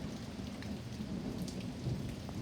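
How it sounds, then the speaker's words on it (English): Steady heavy rain falls during a severe thunderstorm, with low rumbling thunder rolling underneath, a continuous dense wash of sound with no voices. "hear that thunder?"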